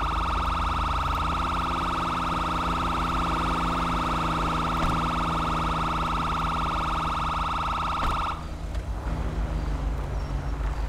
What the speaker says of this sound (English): stand by while I turn off my siren